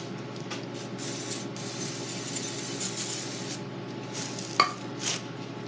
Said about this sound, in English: spray it all down, wipe it off.